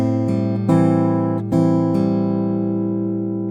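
A minor 7 guitar riff with the lower string left unmuted, sustained chords ringing with a couple of fresh strums, close and without talking.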